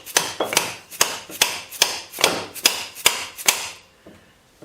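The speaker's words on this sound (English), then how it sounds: "Here's a plastic mallet hammer and see if this will let it start to come out a little" A plastic mallet strikes a welded joint nine times in a steady rhythm, each sharp close knock ringing briefly before the next, then falling quiet.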